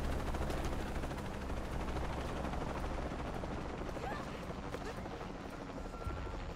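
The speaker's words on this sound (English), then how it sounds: "Oh, helicopter." Helicopter in the video game Shadow of the Tomb Raider: a loud, steady rotor thrum fills the scene, mixed with rapid gunfire bursts and rumbling action noise, with game speech faintly underneath.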